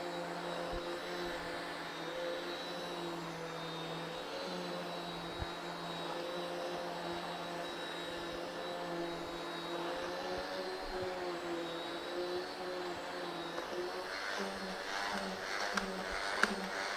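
A Rainbow vacuum cleaner runs steadily, a sustained droning whine with a high motor tone, close and constant for the whole stretch, with a few faint knocks near the end.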